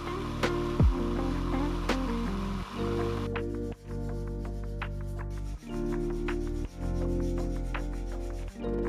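Knife handle front spacers hand sanded with fine-grit sandpaper up to 1000 grit, giving steady back-and-forth rubbing strokes with brief pauses, close and fairly loud, no talking.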